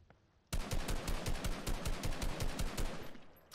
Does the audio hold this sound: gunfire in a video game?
yes